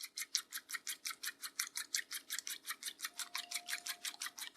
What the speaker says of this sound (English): So what I can do is go ahead and scramble the eggs.